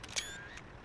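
A camera-shutter click for a screenshot in American Truck Simulator, one short crisp snap with a faint electronic tail, heard alone and fairly quiet.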